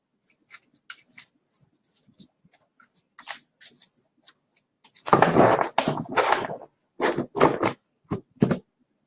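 Tarot-style cards shuffled by hand for a card pull, soft rustles and light taps at first, then several louder riffling bursts close to the microphone.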